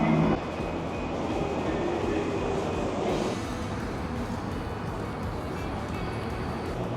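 A train rumbles steadily with a dense, continuous roar of wheels and motion, fairly loud and close, shifting slightly in tone partway through.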